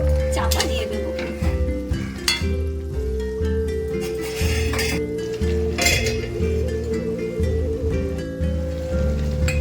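Slit green chilies tossed with prawns in a pan give clinking metal stirs and scrapes over a light sizzle, with someone talking over them throughout.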